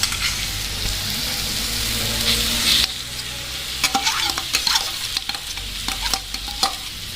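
Chopped potato and peas being sautéed in a pan for a leftover-chapati papad sandwich snack, a steady sizzle broken by repeated scraping stirs of a spatula, close and alone.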